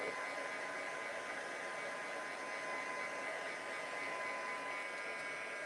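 A heat tool blows steadily on freshly inked card, giving a constant, moderately quiet whirring drone with an airy hiss and no pauses or voices.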